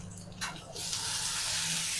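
Chicken broth is poured onto Sri Lankan kottu roti made from maida flatbread, a short splash that settles into a continuous close liquid pour.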